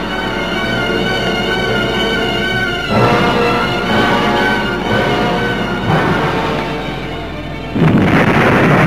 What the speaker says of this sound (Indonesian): Lalu terdengarlah ledakan keras,